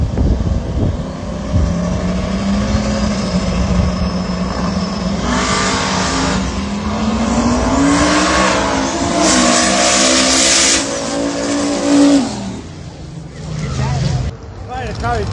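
A No Prep Kings race car at Maple Grove roars with a loud, rising engine note, revving up and sweeping through gears, while a voice talks over it.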